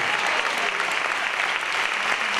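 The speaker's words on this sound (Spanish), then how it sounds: "fuerte aplauso para todos estos chicos que están defendiendo el deporte." At a 2018 sports gala, a crowd gives loud, sustained applause for a young youth sports team from a municipal sports school, a dense continuous wash of clapping close and even throughout.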